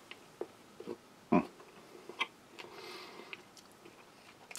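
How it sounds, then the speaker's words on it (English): Hard licorice candy from a Norwegian army arctic field ration crunches in the mouth, one loud crunch among quieter close chewing clicks and mouth noises, with no talk. "I don't know if you hear there, that one has just actually crunched, slightly soft in the centre"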